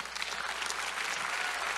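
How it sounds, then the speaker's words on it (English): Applause from a full room at a gala awards event, steady dense clapping heard from some distance, continuous and fairly soft throughout the short stretch. "So give yourself a round of applause for making this happen."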